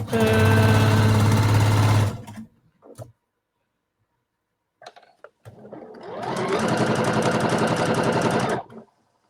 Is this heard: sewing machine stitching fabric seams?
yes